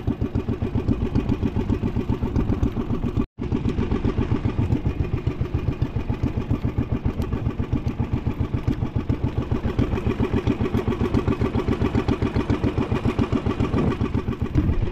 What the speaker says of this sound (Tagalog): Ganda ng tunog ng makina kong to.